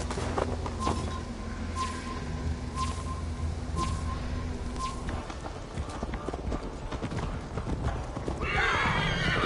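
Horse hooves clip-clop steadily in the video game Assassin's Creed Valhalla, a running gait close and loud, with occasional neighing and game voices mixed in.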